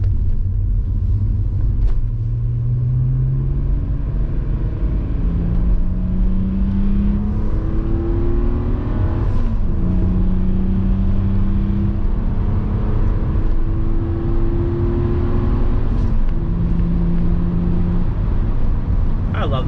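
A Mk2 Volkswagen Jetta's engine hums steadily while driving, rising in pitch through several gears as it accelerates, with a constant road rumble.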